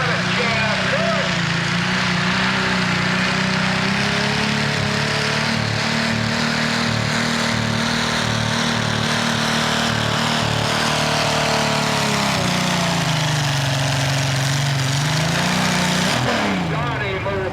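An antique tractor engine roars loud and continuous under heavy load during a tractor pull, its pitch wavering and dipping near the end as the run winds down.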